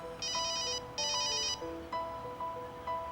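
A cell phone rings nearby with a repeating electronic ringtone in bright, evenly spaced bursts, clear and alone in a quiet test setting.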